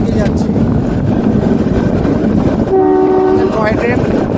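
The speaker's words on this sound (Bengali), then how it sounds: "টয় ট্রেন অনেকটাই চলে এসেছে, অনেক টানেল অতিক্রম করে চলে এসেছে।" The Shimla toy train rumbles loudly through tunnels, a close, heavy rolling roar that runs throughout, with a sustained horn-like tonal blast near the end.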